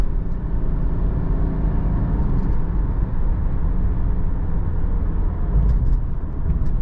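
Cabin of a 2013 Subaru Outback 2.5i Premium on the move, a steady low rumble of road and engine noise with tire drone, constant and fairly loud with no voices.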